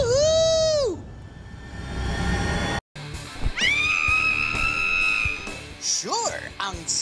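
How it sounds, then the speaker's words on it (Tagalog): Riders shriek and whoop while speeding along a twisting roller coaster zipline, loud and close, with long sustained screams, a brief cut, then rising and falling yells over rushing ride noise. "Sure, ang sigaw ng kaba at saya sa ride na to."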